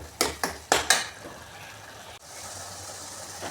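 A spoon scrapes and clanks against a pan while garam masala and mushrooms roast, four quick sharp strikes followed by a soft, steady sizzle close by.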